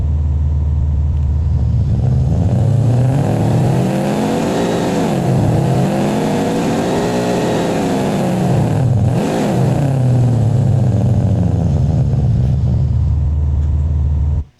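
A Subaru Impreza World Rally engine, synthesized with Krotos Igniter in Wwise, revs up and down in smooth sweeping cycles, a loud steady close roar with rising and falling pitch throughout.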